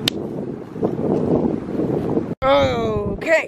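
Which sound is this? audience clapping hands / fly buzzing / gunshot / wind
wind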